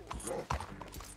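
Horse hooves clip-clop in a quick, even rhythm under steady background noise in the video game Red Dead Redemption, with a brief louder thump partway through.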